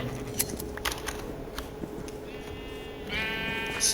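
A sheep in Minecraft gives a short wavering bleat near the end, preceded by soft clicks and small game noises; moderately close, no talking.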